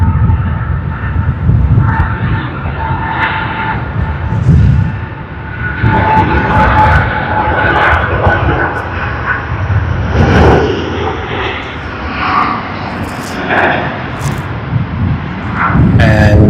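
An airliner departing Sydney Airport roars loudly and steadily with jet engine noise, a continuous broadband rumble and whine close by, with no talk.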